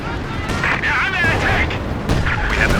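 An artillery barrage in the game Company of Heroes 2 sends deep, rumbling booms through a dense mix of battle noise while a person talks throughout.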